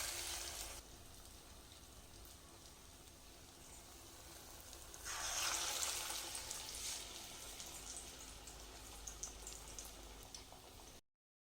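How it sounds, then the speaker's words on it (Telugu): Sweet corn vada batter deep frying in hot oil, a steady soft sizzle and bubbling hiss that swells briefly partway through, then cuts off abruptly near the end. "ఆయిల్లో వేసుకొని డీప్ ఫ్రై చేసుకోవాలి"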